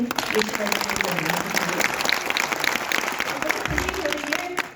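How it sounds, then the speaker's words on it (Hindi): Loud, dense applause fills a hall at the Global Biz Summit in Jaipur, a sustained wash of many hands clapping with some voices mixed in and a slight taper near the end. "जोरदार तालियां"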